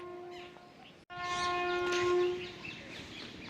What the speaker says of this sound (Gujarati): હોર્નો મિત્રો સંભળાઈ રહ્યા છે ને આપણી ટ્રેન એન્ટર થવાની છે